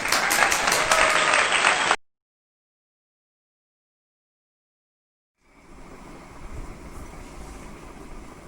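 People clap quickly and steadily for about two seconds, then the sound cuts out to silence before a noisy background returns.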